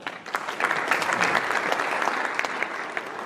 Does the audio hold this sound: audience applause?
yes